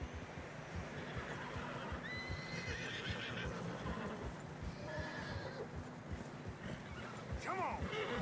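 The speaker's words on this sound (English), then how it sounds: "Horses are getting tired." Horses in Red Dead Redemption 2 whinny and snort amid a steady drum of hooves through fresh snow, with a constant windy, crowded bed of noise and a sharp neigh near the end.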